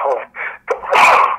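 A single sharp sneeze bursts out near the microphone at the end, right after a few moments of someone talking.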